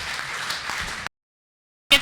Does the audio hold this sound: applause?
yes